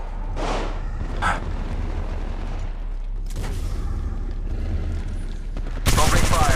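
Gunfire from Apex Legends Mobile crackles in scattered bursts with several sharp shots, then a loud sustained volley of rapid fire at the end, close and prominent.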